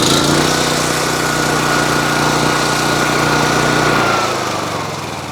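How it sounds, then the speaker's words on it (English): Drain Invader PRO Series hydro jetter engine running loud and steady at high throttle, its tone dropping as it winds down toward idle near the end, with no talk. "I'll just go ahead and start it and you'll see how it'll start out at the higher throttle and automatically bring itself down"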